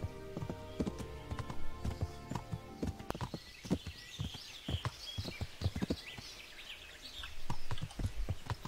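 Horse hooves clip-clop steadily at a walking pace while riding Pebbles through a forest in Kingdom Come Deliverance, with faint birdsong in the background.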